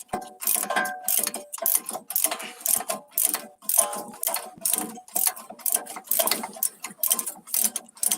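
Ratchet wrench clicking on bolts while changing brake pads and rotors on a Lincoln MKS, rapid ratcheting bursts in repeated strokes close to the mic, with pauses between and no talk.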